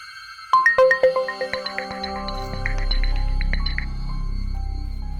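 A phone call tone plays close up as a sequence of bright electronic beeps, followed by a low droning hum while the line connects.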